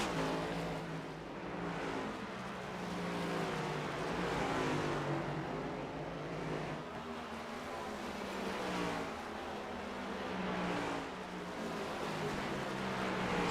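Simulated NASCAR Cup Series race cars lapping Martinsville during iRacing practice: engine notes rise and fall in repeated waves as cars accelerate and back off, a continuous droning roar with no talk.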